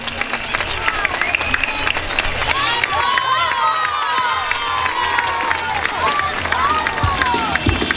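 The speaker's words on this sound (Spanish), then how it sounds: "Un aplauso para los tres." Crowd applause and cheering at a town summer festival proclamation in San Pedro, a dense continuous wash of clapping with shouts and whoops rising over it, loud and close throughout.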